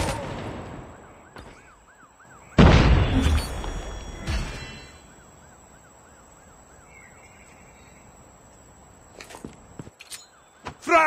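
A frag grenade detonates in a video game as a loud, sudden blast that rumbles for about two seconds, with warbling siren-like tones and faint clicks before and after.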